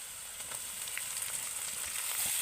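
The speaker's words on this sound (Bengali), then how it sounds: "গাজর আলুটা কিন্তু আমার ভাজা হয়ে গেছে এই দেখুন একদম সেদ্ধ হয়ে গেছে ভেঙে যাচ্ছে এবার আমি এখানে দিয়ে দেব ক্যাপসিকাম" Capsicum sizzles in a pan with softened carrot and potato, a soft steady hiss of frying heard close and fairly quiet for a couple of seconds.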